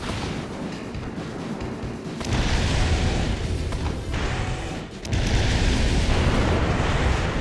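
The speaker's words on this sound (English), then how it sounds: "just fire all them fire missiles now?" Fire missiles bursting in the video game Nine Breaker, a dense roar of overlapping explosions and booms that rises and falls, swelling louder after a brief dip, with no talk over it.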